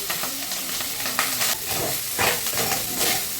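Leftover morning rice stir-fried with mustard seeds in a pan, with a steady close sizzle and hiss broken by several scraping stirs, no talking.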